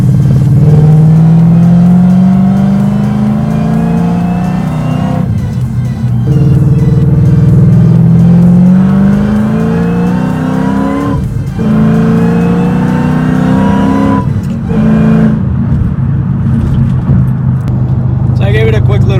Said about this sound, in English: it is straight pipe all the way from the headers to the back